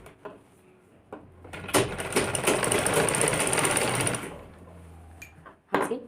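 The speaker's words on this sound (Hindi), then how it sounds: "अब इसमें पूरा से सिलाई मार लेंगे" A sewing machine stitches a kurti collar, running in one loud, continuous burst of about two and a half seconds, framed by quieter handling knocks and a final clack.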